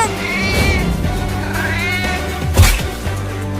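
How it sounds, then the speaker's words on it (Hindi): A small cat meows several times in a cartoon skit, drawn-out wavering cries over music-like tones, with a brief thump near the end. "बाबू ने इस छोटी सी बिल्ली को टेम्पो से ठोक दिया है"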